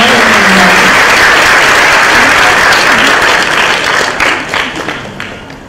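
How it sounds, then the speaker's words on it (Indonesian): Loud, sustained applause from a crowded audience at a public lecture by Sri Mulyani Indrawati, a thick roar of clapping that gradually thins and softens toward the end. "Mari kita berikan tepuk tangan yang dimulai."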